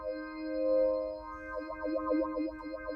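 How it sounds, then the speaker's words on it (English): A Viscount Soul 261 organ plays sustained chords through a ring modulator effect, the steady tones giving way midway to a warbling, pulsing wah-like modulation with a distorted, metallic edge, loud and close with no voices. "so you can hear that wah wah wah wah ring mod"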